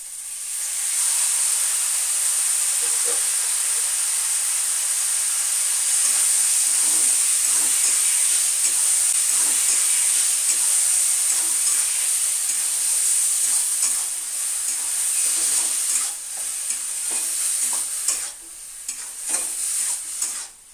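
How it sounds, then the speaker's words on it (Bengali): Ground spices, including coriander powder, sizzle and are stirred in hot oil in a pan before boiled cabbage is added for a cabbage bharta. A steady, close frying hiss runs throughout, with scraping stirs and a few louder clatters near the end. "এবার মশলাটাকে একটু নাড়াচাড়া করে আমি বাঁধাকপি সিদ্ধ করে রাখা বাঁধাকপিটা দিয়ে দেব"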